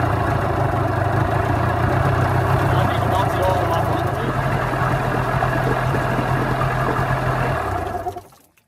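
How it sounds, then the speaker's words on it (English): A Yamaha 9.9/15hp outboard motor idles with its cowl on, holding a steady, smooth mid-pitched hum close by for several seconds before cutting out abruptly at the end. "That actually idles pretty smooth."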